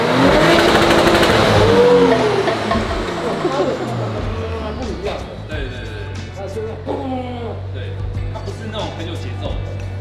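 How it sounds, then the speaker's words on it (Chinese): A tuned Audi car with a performance-tuned engine chip roars loudly as it is revved up close, then the engine noise settles to a lower idle while people talk over it. "那我们可以发动，我可以听一下吗？"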